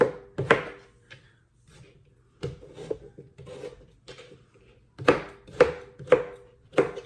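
An onion is roughly chopped with a knife on a cutting board: bursts of quick, close, crisp chops separated by pauses, with a few scraping rubs in between.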